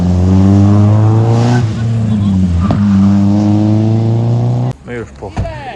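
Citroen Saxo rally car on a reconnaissance run of the rally route, its engine droning loudly and steadily with shifting pitch for most of the stretch before cutting off abruptly near the end, followed by brief clatter.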